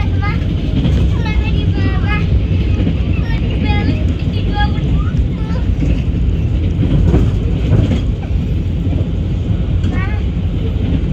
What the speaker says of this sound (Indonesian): Perjalanan kereta api Gumarang telah tiba dan berhenti di stasiun Pekalongan.